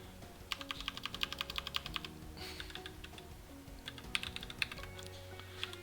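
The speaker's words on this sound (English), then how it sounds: "you type in your examination number" Close computer keyboard typing: quick clusters of crisp key clicks come in uneven bursts with brief pauses between them, with no voices.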